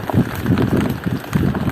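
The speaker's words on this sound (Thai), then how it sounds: "ลมแรง" Loud, constant wind at a reservoir buffets the microphone with a low, rumbling roar that barely lets up.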